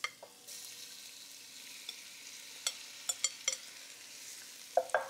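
Chicken pieces hit hot oil in a pot for Cajun jambalaya, making a soft sizzle with a spoon scraping and clinking now and then, close and fairly quiet, with no talking.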